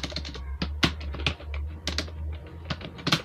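Typing on a computer keyboard while writing a freelance gig profile, with irregular bursts of close, crisp key clicks and a few louder keystrokes over a steady low hum, no voices.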